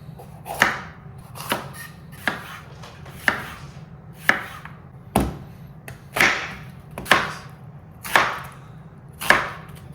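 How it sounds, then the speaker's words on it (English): Vegetables are sliced with a knife on a cutting board for chicken fajitas. Crisp, evenly spaced chops repeat about once per second, close and clear with no voices. "Take your veggie of choice, slice her up."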